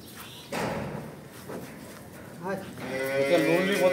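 A large, good-breed dairy cow, five months pregnant, lets out a close, drawn-out moo toward the end, with people talking nearby.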